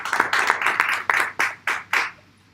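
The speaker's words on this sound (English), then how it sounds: "Let's give a round of applause" Applause for a professor at an archives awareness event: a few hands clap in a brisk, evenly spaced run of about eight distinct claps, close and clear, then fade out.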